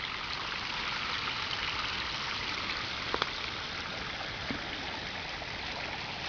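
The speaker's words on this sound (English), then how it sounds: "And that's the creek." Steady broadband rush of creek water flowing in a highland stream below a waterfall, continuous and close with no voices.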